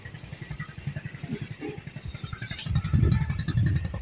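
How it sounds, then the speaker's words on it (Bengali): A paddy-carrying trawler boat from Sylhet chugs along a river with a steady low engine throb that swells louder toward the end as it passes close by. "ট্রলার যাইতেছে নদী দিয়ে"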